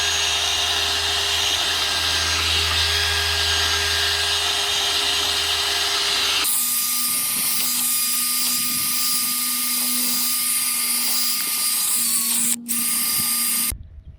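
A power tool runs steadily on a truck's suspension springs, a loud continuous whir that shifts to a higher, harsher grind partway through and keeps going before stopping abruptly at the end.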